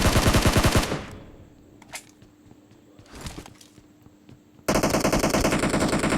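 Rapid automatic rifle fire in a battle-royale shooter game, loud bursts at the start and again at the end, with scattered distant shots and faint footsteps in the quieter gap between.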